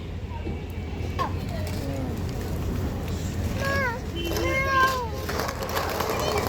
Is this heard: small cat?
yes